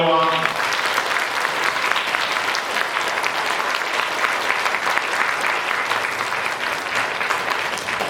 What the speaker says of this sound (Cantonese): 我哋大家嘅掌聲